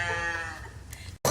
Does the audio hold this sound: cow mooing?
yes